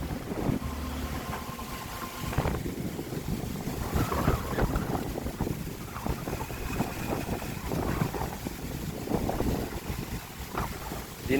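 Strong wind roars steadily across the microphone while driving a tractor on a dirt track, a constant broadband rush with gusty swells and a low rumble underneath.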